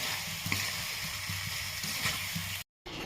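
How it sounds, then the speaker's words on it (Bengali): Taro pieces sizzling steadily in oil in a pan for a fish curry, a constant close frying hiss with faint stirring bumps, cut briefly by a moment of silence near the end. "কচুগুলো একটু ভালো করে কষিয়ে নিয়ে তারপর আলু দেবো একটা এতে"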